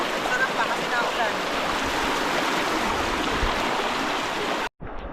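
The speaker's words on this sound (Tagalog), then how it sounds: "Malakas lang agos." Mambog River runs with a strong monsoon current, a loud continuous rushing roar of fast water heard up close, cutting out abruptly near the end.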